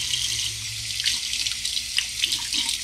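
Water runs steadily from a tap into a sink while squirrel meat is rinsed, a loud, close hiss of flowing water with small splashes and shifts as the pieces are moved under the stream.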